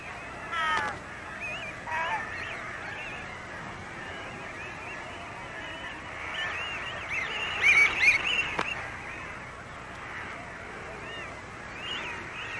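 Gulls call in the Arctic summer where foxes hunt: short, harsh, honking cries come in scattered bursts, densest near the middle, over a soft outdoor background.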